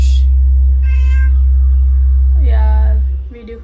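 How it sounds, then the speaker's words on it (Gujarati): A cat meows several times in short, whiny calls with a longer drawn-out meow near the end, over a loud constant low hum. "બીજો એક બિલાડો આવીને માવ કરે છે"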